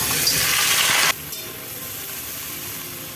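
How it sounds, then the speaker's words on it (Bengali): Potatoes sizzle loudly in hot oil in a pan while khichuri is being prepared. The steady hiss cuts off abruptly about a third of the way through, leaving a quieter background hiss with no talking. "আলু আগে দিয়ে দিই ভেজে নেব"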